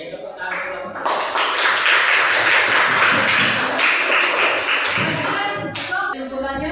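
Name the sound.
students applauding a group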